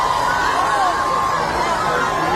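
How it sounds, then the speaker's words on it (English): A crowd cheers in a brief, dense, continuous roar of many voices, loud and steady throughout, with no single voice standing out. "I hear they started cheering right there."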